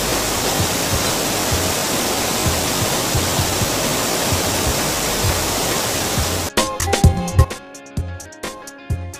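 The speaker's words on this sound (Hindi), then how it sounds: "इस मशीन को कहा जाता है फाइब्रो सेपरेटर सेकेंड।" A fibro separator machine cleaning wheat in a flour mill, giving a dense continuous rushing, rattling roar that cuts off sharply after about six seconds, leaving scattered clatter and knocks.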